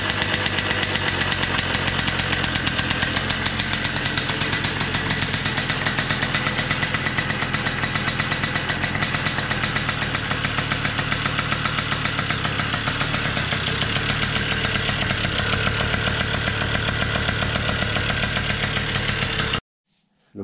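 A freshly rebuilt mobcross motorcycle engine runs loud and close after its first start, a steady buzzing, knocking idle that holds for about twenty seconds before cutting off abruptly.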